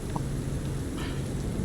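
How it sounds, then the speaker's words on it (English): Steady acid rain falls in the video game Cyberpunk 2077, a dense continuous hiss of downpour with a low rumbling bed, heard alone and moderately loud throughout. "Oh, look at how this looks in the acid rain."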